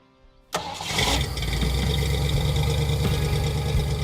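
A Ford Ranchero engine cranks over and catches, then settles into a steady, loud, rumbling idle close by, with no one talking.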